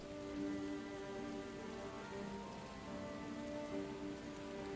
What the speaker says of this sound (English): And rain again.